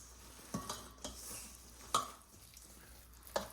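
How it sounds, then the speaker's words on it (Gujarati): A spoon mixes bottle gourd (lauki) dhokla batter in a bowl. The sound is quiet and close: a soft, wet churning with a few light taps of the utensil against the bowl, and no one speaks. "હવે આપણે આ બધું મિક્સ કરીશું।"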